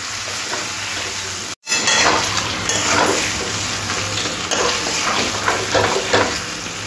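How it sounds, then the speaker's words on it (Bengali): Chicken sautés with fried spices in a pan for a chicken maharani, a loud, close sizzle with rhythmic scraping of a spatula, broken by a brief silent gap near the start. "চিকেনটা মশলার সাথে খুব ভালো করে কষে নিতে হবে, তাহলে খেতে খুব ভালো টেস্ট হবে।"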